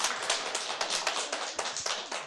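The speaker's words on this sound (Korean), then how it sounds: "우리 박수로 한번 영광 돌립시다" A church congregation claps together at a twentieth-anniversary worship service, a brisk, rhythmic run of hand claps, fairly close and moderately loud, with no talking.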